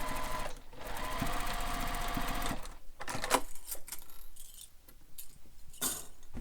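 A sewing machine runs a long basting stitch through bag fabric, its rapid mechanical whir steady and close for a couple of seconds, then breaking into short bursts and clicks as the fabric is handled.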